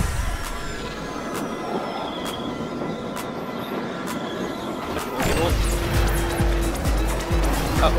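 A race car in Trackmania Turbo drives with a continuous engine drone and road roar, growing louder and rougher partway through, while a person talks over it.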